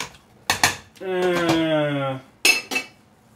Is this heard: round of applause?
no